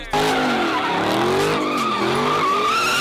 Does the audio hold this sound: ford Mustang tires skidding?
yes